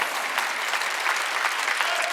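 A church congregation applauds together at a Wednesday service, a loud, even, sustained clatter of many hands with no break, faint voices mixed beneath.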